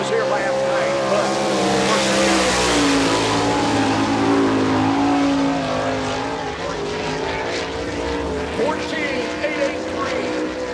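An All Star Circuit of Champions race car runs a qualifying lap at Volusia Speedway in Barberville, Florida, engine roaring loudly and continuously with pitch swells through the turns, while an announcer talks over it.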